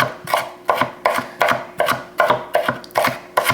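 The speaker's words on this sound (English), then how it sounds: "And then we're gonna chop up some bacon" Bacon chopped with a knife on a cutting board: about eight steady, evenly spaced thuds, loud and close, with no one talking.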